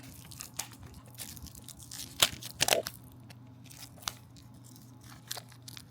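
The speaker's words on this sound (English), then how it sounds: "taking some scissors and making a little cut to get access to the edge of that plastic" Scissors snipping into the plastic packaging of a SanDisk memory card, with a few light clicks followed by a sharper crunchy cut near the middle, close and otherwise quiet.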